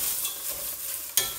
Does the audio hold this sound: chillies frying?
yes